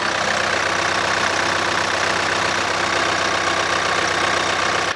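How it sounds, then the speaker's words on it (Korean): Diesel engine of a 2015-model Kia Sorento family SUV idling with the hood open, a steady, loud, even rumble that runs unbroken throughout, heard up close with no talking. "엔진 소리 한번 들어볼게요."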